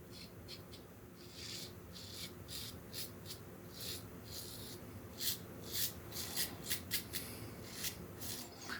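Faint scratchy scraping from a safety razor making a pickup pass along the jawline, short strokes repeating close by in a quiet room, growing a little crisper toward the end.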